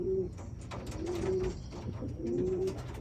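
Racing pigeons coo inside a loft, with soft repeated rolling coos rising over a constant low background rumble and faint rustling from the birds.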